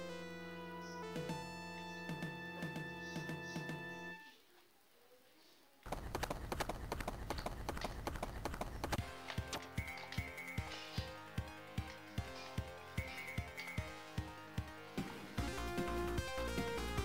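In the video game Shinobi 3: Return of the Ninja Master, horse hooves gallop in a fast, regular rhythm that mixes with loud game music throughout.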